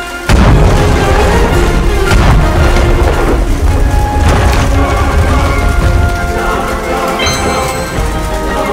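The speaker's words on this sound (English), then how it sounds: "Let's use the cannon to shatter the crystal." A loud cannon blast in the video game Stormshot 2: Boom Blast booms, then a long rumbling roar with crackling, splintering debris sustains for several seconds as a crystal shatters.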